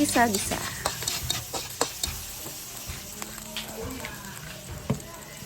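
Ground pork sautéing in a pan for bihon noodles, a constant close sizzle with brisk, irregular stirring scrapes and clinks of the spatula against the pan.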